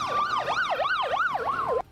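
An ambulance siren wails along the streets of Peshawar after a mosque blast, a steady rising-and-falling electronic tone repeating about every half second, loud and continuous with traffic rumble beneath.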